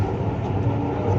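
A Hyderabad metro train rumbles past nearby, a loud, steady low roar and rolling noise that stays constant through the short stretch, with no voices.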